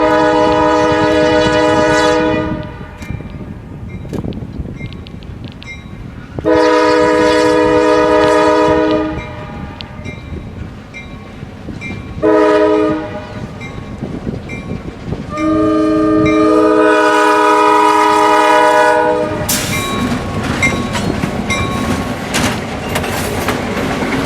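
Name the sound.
freight hopper train passing on a curve, train horn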